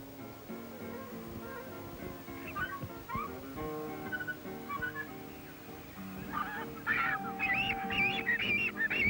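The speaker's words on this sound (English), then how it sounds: "Some distance away is a colony of frigate birds." A colony of frigate birds calls in the distance on the Australian coast, with harsh overlapping honking cries growing louder and more frequent toward the end over a low background.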